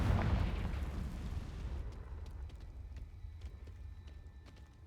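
Confringo fire spell explosion in the Hogwarts Legacy video game, a loud deep boom that rumbles and fades over a few seconds, followed by faint scattered crackles, no talk.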